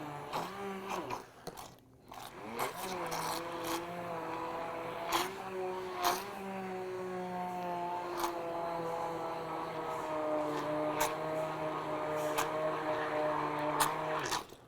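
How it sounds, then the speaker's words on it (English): A Vitamix stainless steel immersion blender motor whirs through smoothie ingredients, its steady drone shifting pitch upward as speed increases, with brief clicks and knocks and a voice speaking over it. "we increase the speed of the immersion blender"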